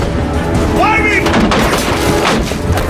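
Gunfire in an action war film: a few sharp shots and booms ring out amid shouted voices and battle noise, loud and close.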